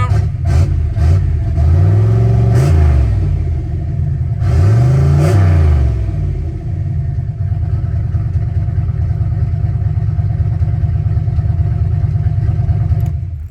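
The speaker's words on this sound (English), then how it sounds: "as soon as I touch the throttle, it fires right up" A car engine is started with a light touch on the throttle, firing up and revving twice in rising-and-falling bursts, then settling into a steady, loud, close rumbling idle.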